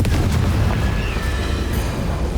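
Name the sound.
Bombarda and Confringo spell blasts in video game Hogwarts Legacy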